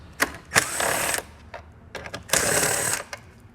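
A 10mm socket on a ratchet backs out taillight screws on a 2021 Hyundai, giving two close bursts of rapid clicking, each lasting under a second, with brief taps between them.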